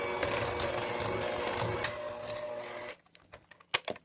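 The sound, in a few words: electric mixer mixing tart dough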